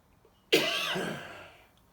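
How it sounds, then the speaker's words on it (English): A single short cough from a man playing Santa, close and fairly loud, then quiet. "Santa's got a wee bit of a cough."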